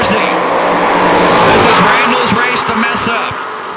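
1964 Corvette launching at a bracket drag race, a loud roaring engine burst with crackling exhaust and tire noise, while an announcer talks over it through the track PA.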